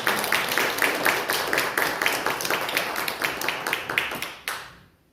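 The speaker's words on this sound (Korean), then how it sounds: "다시 한번 박수로 환영합니다" A church congregation claps in welcome for a member, a fairly small group clapping in a loose, quick rhythm at close range, then fading out abruptly into silence.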